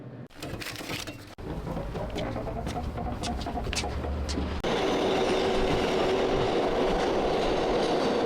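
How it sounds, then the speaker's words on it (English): A Flushing–Main Street 7 local subway train rolls past loudly and close, with steady rumbling, clickety-clack wheel rhythm and rising squeal, growing denser and louder toward the end. "This is a flushing Main Street Round 7 local train."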